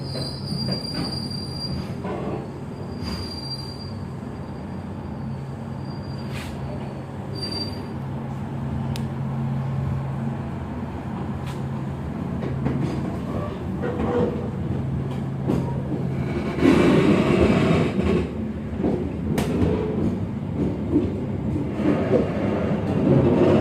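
The Mutiara Selatan passenger train, hauled by a CC 206 locomotive, rolls out of Yogyakarta station with screeching wheel squeal, rumbling cars and clanking couplings, growing louder as it moves along the track.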